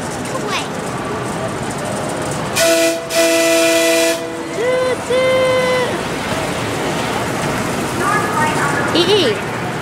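A train horn sounds in a couple of loud sustained blasts over ongoing rail rumble, with voices talking throughout.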